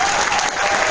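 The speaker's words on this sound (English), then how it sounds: "can we just give a round of applause for Jesse on this?" Brief burst of convention crowd applause, dense and steady clapping filling the short moment at close range.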